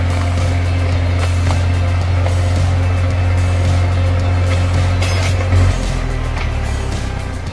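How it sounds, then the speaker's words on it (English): A heavy truck loaded with tons of wood pushes through a flooded road, its low engine drone steady and loud throughout with a faint watery wash, no voices. "the truck loaded with tons of wood is trying to navigate through the flooded road"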